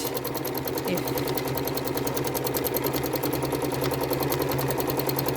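A sewing machine runs at a fairly quick, steady pace while curves are quilted, giving an even, continuous motor whir with a fine rapid stitch pulse throughout.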